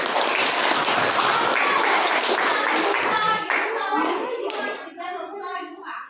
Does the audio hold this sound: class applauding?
yes